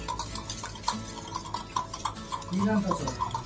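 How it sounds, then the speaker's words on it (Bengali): Eggs and sugar are whisked together in a bowl for pancake batter, a close, quick rhythmic clicking and tapping of utensil against the bowl with a faint voice in the background. "এখানে ডিম আর চিনিটা ফাটিয়ে নিচ্ছি ভালো করে"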